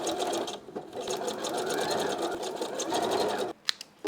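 Sewing machine running a fast zigzag stitch across the joined ends of two elastics, a loud, steady close-up whir for several seconds that stops with a few clicks at the end.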